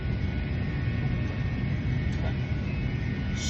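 A steady, loud airliner cabin roar on a night flight from Jeddah to Madagascar, a deep even rumble of engines and airflow that holds constant throughout.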